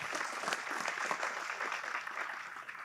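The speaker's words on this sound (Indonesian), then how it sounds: "Tepuk tangan untuk kita semua." An audience at a naval military ceremony breaks into applause, a dense and continuous wash of many hands that stays steady, heard faintly and at a distance before it begins to taper off.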